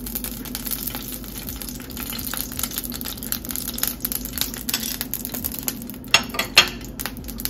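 Ghee heating in a pan for coconut burfi, a low steady sizzle with occasional sharp clinks of a spoon against metal near the end.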